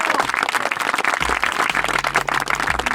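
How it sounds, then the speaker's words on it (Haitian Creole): Applause from a live audience at a show, dense continuous clapping, loud and close, running the whole time without a break. "On bat un petit bravo pour yo."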